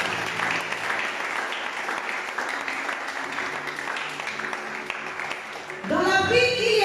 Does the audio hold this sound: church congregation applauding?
yes